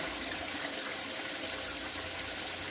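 Water mixed with a little rinse aid pours steadily into a gold cube sluice box lined with mini and vortex mats, a continuous even gush with no talking.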